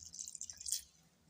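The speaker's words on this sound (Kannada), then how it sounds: "ಇದಕ್ಕೆ ಒಂದು ಸ್ವಲ್ಪ ನೀರು ಹಾಕ್ತೀನಿ ನೋಡಿರಿ" A small amount of water poured into a mixer grinder jar, a brief series of trickling splashes and drips that swell, then quickly fade to quiet.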